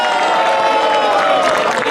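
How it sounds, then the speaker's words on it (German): Applause from an outdoor audience at a Christmas market beside Cologne Cathedral, a dense steady wash of clapping and crowd noise lasting the whole moment, fairly loud and unbroken. "Es ist schwierig, mit Glühwein zu klatschen oder mit Handschuhen"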